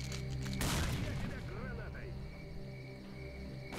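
A short burst of gunfire erupts about a second in during a bandit camp fight in the video game Stalker: Call of Pripyat, then fades to quiet ambient game sound.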